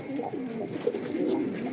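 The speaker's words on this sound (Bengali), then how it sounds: "এই কবুতরটা খাকি চলে আসছে" A khaki-coloured pigeon coos softly and steadily at close range, a low rolling call lasting under two seconds with no talking.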